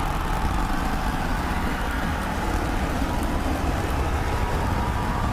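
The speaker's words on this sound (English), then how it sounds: "going for a landing burn, trying to light 2 of these Raptor sea level engines" Two SpaceX Starship Raptor sea-level engines firing during a landing burn, a steady, dense roar with rumble and hiss that runs without a break, loud and uniform, with no voices.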